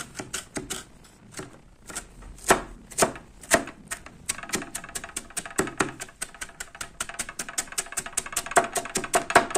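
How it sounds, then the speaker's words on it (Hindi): A kitchen knife finely mincing shredded chicken and vegetables on a board for a chicken vegetable sandwich, with rapid, steady, close chopping taps that start sparse and grow into a fast, continuous rhythm. "आपने इनको छुरी से इस तरह से बारीक कुतर लेना है।"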